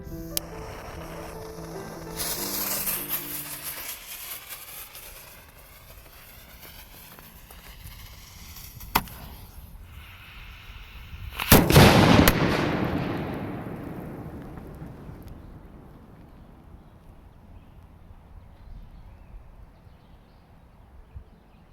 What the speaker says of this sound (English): we need to go ahead and do the gray canister salute shell